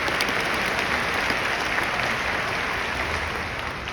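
Dense, steady applause from a large graduation audience, loud and continuous throughout with no break.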